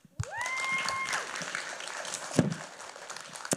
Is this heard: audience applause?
yes